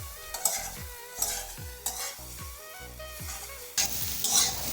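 Soya chunks fry in a pan for a spicy Bengali-style soya chunk curry, with repeated scraping stirs in a steady rhythm over a continuous sizzle, close and fairly loud, no talking.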